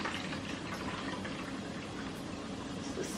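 Water pours in a steady, close, hissing stream into the reservoir of a Keurig K Mini single-serve coffee maker, with no talk.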